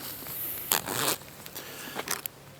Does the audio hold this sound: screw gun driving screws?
no